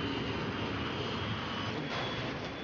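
Airbus airliner engine running at maximum thrust, a steady loud broadband jet roar with a faint high whine, continuous throughout with no talk.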